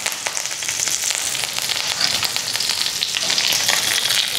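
Curry leaves, dried chillies, mustard seeds and coriander seeds crackle and sizzle in hot oil for a tempering, a dense, steady spitting fry close by with no talking.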